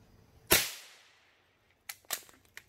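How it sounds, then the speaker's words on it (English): A single sharp gunshot cracks close by and rings out in a decaying echo, followed by a few fainter clicks and handling sounds. "That was the last shot."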